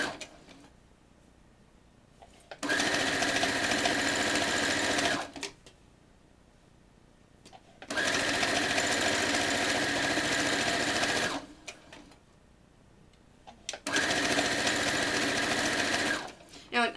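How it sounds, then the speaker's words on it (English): A sewing machine stitches quilt binding with a quarter-inch seam in three loud, steady whirring bursts of a few seconds each, separated by quiet pauses, close to the listener. "And I'm sewing it with a 1/4 inch seam."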